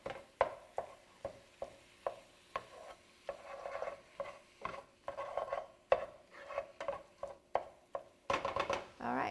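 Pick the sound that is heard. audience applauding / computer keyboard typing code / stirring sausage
stirring sausage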